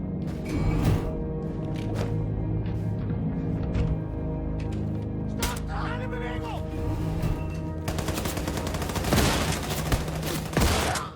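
Shotgun gunfire from the video game Wolfenstein II: The New Colossus, loud blasts and bursts in a busy combat mix with game music and effects, with several sharp bangs near the start and a denser cluster toward the end.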